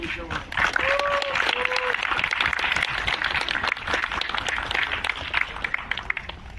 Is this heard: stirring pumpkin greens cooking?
no